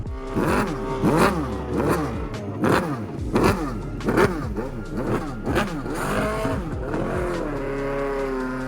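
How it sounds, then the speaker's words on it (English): Formula Nippon race cars at a Suzuka track day scream past one after another, each loud engine note rising and dropping in a rhythmic series of close fly-bys, ending in a sustained high wail. "these Formula Nippon race cars which sounded absolutely wild"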